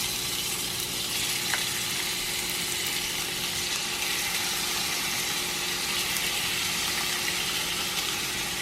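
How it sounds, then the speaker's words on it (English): Steak pan-searing in about three tablespoons of olive oil in a saucepan over medium heat, a steady, even sizzle and crackle of frying that runs unbroken throughout, close and fairly loud, with no talking. "we're going to start by pan-searing our steak"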